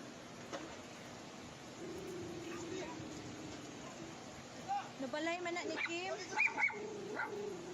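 A dog barks and yips several times amid noisy outdoor weather, the barks fairly close and irregular, standing out over a steady rushing background while a voice talks in the scene.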